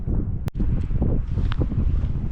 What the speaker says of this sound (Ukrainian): Вітер дуже сильний, холодно.